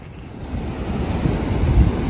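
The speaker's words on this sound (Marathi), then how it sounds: "आता आपण खाडी आणि समुद्र यांच्या संगमावर आलो आहोत" Sea waves roll in where a creek meets the sea, a steady rushing surf with heavy wind buffeting the microphone and no voices.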